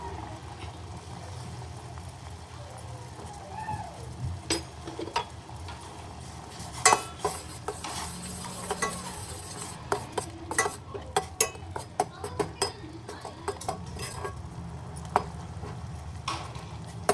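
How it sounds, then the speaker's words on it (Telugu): Metal spoon clinks and scrapes against a pot in irregular bursts as crushed masala spices and ginger are stirred into boiling tea, over a low steady simmering rumble, with no talking. "ఇగో మరుగుతున్న దాంట్లో ఇప్పుడు దంచిన మసాలా"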